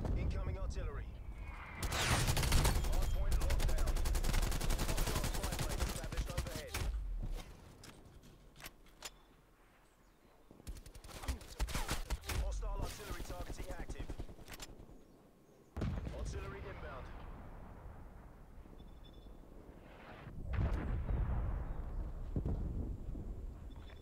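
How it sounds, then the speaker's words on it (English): Incoming artillery strikes in Call of Duty Black Ops Cold War, repeated heavy booming blasts with roaring, rumbling tails that arrive in waves separated by brief lulls, alongside gunfire and voice announcements. "Neckel, incoming artillery."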